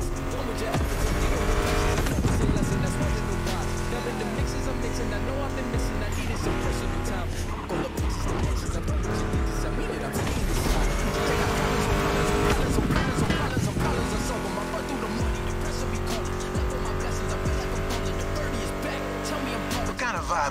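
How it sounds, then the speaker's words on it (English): A Mustang GT muscle car in The Crew Motorfest roars continuously with tire squeal and skidding, close and loud throughout, mixed with music riffs and occasional talk. "Meshes well with the sound of the engines, you feel me?"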